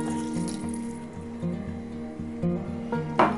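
Moscatel wine poured into a pan of squid cooking with onions, a steady liquid trickle with faint bubbling and sizzle throughout, ending in a brief louder splash.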